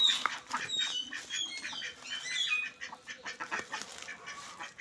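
Ducks and chickens calling together nearby in a busy, overlapping chorus of quacks, honks and clucks, with no talk.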